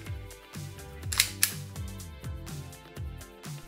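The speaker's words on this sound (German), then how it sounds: "Das Einlegen des Magazins geht super einfach und schnell." A CO2 magazine is pushed into an ASG P-10C airsoft pistol, giving a sharp plastic-and-metal click and snap in the middle of a short close-up span of small handling noises.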